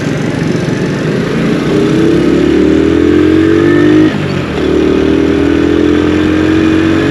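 A 2022 Honda CD 70 motorcycle riding through busy Islamabad city traffic, its small single-cylinder engine droning loud and close, rising in pitch, dropping briefly at a gear change, then climbing again.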